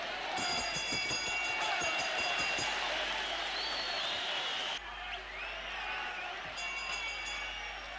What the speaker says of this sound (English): The crowd begins to come alive here at the National Tennis Center in Melbourne